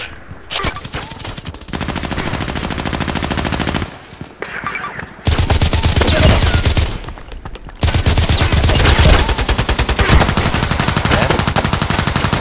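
Rapid automatic gunfire from the Thor weapon in the shooter Contract Wars, loud, sustained bursts with short pauses between them, close and dense throughout.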